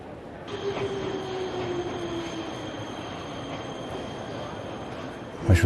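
A video game train in Nobodies: Silent Blood rolls in with a steady rumble, high metallic squeals and a faint tonal hum, ending in a sudden clank.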